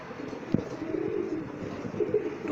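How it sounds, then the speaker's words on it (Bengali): Domestic pigeons kept for sale give low, soft cooing that rises and falls steadily, with a few brief knocks and rustles nearby and no speech. "এটা মাদি কবুতর, 2 চশমা, এটা 2 চশমা কবুতর, লাল গিয়ারের।"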